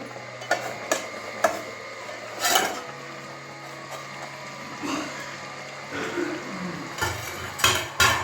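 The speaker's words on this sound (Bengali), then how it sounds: "এবারে আবারও ঢাকনা খুলছি" A metal lid lifted off a cooking pot of potato, eggplant and small-fish curry, several sharp clanks and clinks of metal on metal spread across the moment, close by, with a soft bubbling between them.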